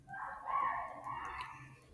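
A rooster crows once, a drawn-out call that rises and then tails off, moderately near against a faint background.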